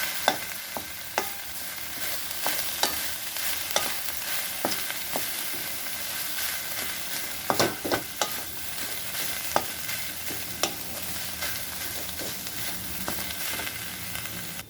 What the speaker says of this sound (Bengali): পুরো খুন্তি দিয়ে কুচিয়ে কুচিয়ে বাকিটাও মিক্স করে দেবো।